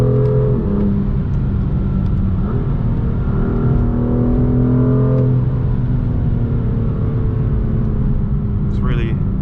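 A 2020 BMW M2 Competition's engine and exhaust drone steadily while cruising through twisty bends, a continuous close rumble with slowly shifting pitch as the revs rise and fall.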